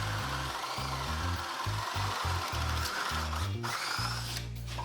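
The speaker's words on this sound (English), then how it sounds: "I'm gonna go ahead and drill a hole into this 1x6" Power drill boring a hole into a 1x6 wooden board, its motor pulsing in short, uneven bursts as the trigger is squeezed and released, ending in a longer steady run; close and loud, no talking.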